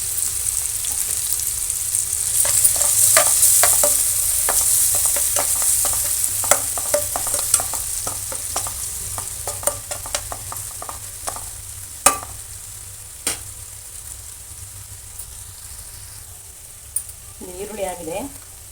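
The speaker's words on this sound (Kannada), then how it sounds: "ಇದೇ ಎಣ್ಣೆಗೆ ಈರುಳ್ಳಿ ಹಾಕ್ತಾಯಿದ್ದೀನಿ." Two onions sizzle and fry in hot oil for a fish curry, a steady bright crackle through the whole stretch with scattered stirring scrapes and clicks.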